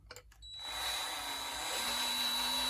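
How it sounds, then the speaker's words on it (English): A few faint knocks, then a power drill spins up into a steady high whine as the bit grinds slowly through an airsoft rifle barrel, loud and close. "I just took it real slow with the drill bit."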